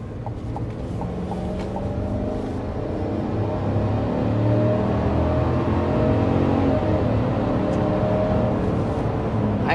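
A 2024 Chevy Silverado pickup accelerates to 60 mph, heard from inside the cab as a steady, low engine drone and road rumble that swells gradually and holds, with no talking.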